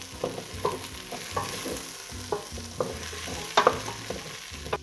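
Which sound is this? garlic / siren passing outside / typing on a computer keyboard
garlic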